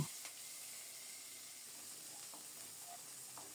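Chopped onion frying in hot oil with nigella seeds and sliced green chilies, a faint steady sizzle with a sharp clank at the start and a few light scrapes, no voices.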